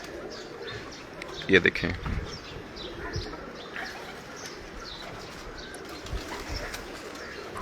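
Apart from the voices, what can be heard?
Hino pigeons cooing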